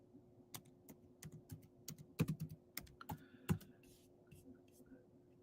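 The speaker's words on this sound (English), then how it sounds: "Let me type in word on map." Typing on a computer keyboard: quiet, close, irregular key clicks tapping in short runs over a steady low hum, with no talk.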